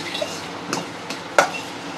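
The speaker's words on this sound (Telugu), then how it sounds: "ఇంకో టమాటాను వేసేసుకున్నాను కొద్దిసేపు ఇలా కలుపుకుంటూ ఫ్రై చేసుకుంటున్నాను" Tomatoes frying in a pan for chutney are stirred with a utensil, giving a few sharp scrapes and clinks over a soft sizzle, with no voices.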